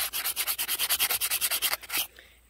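Hand sanding of a wooden slingshot fork cut from a tree, using 220-grit sandpaper: quick, even back-and-forth rasping strokes, about fifteen close scrapes before stopping, with no talking.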